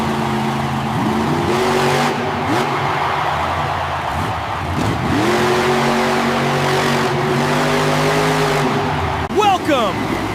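Grave Digger monster truck at a Monster Jam freestyle, engine roaring and revving in repeated rising and falling surges over arena noise, with an excited announcer talking throughout.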